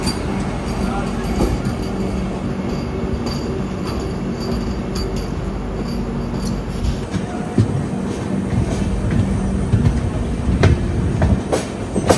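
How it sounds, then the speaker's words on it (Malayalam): The Mumbai CSMT–Madgaon Vande Bharat express rolls past, heard from aboard another train as a steady, loud rumble of wheels and rail clatter with occasional clanks, while a person talks faintly underneath. "പ്രയോറിറ്റി മുംബൈ CSMT മഡ്ഗാവ് വന്ദേ ഭാരതാണ് ഇത്."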